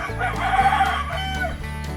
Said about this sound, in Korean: 어미닭이 제가 가까이 가니까 말소리 들리고 하니까 긴장하는 것 같아